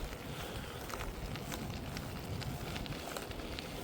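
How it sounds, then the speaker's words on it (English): Wind roaring steadily against the microphone while cycling on a studded-tyre bike along the Lachine Canal in Montreal in December, a dense continuous rumble with no gaps and no voices. "especially when you're filming against the wind, biking against the wind"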